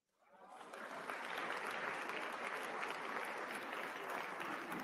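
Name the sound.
applause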